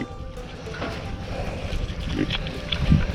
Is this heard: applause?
no